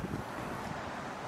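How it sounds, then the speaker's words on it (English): Steady rushing wind buffeting the microphone outdoors in Niue, a continuous low roar with no pauses. "It's a bit windy, but hopefully no rain."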